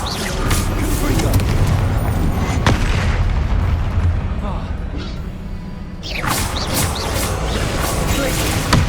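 Confringo spell explosions in the Hogwarts Legacy video game, loud booming blasts and crashing impacts layered over continuous combat noise, with a brief lull before another burst; character voices sound amid the fighting.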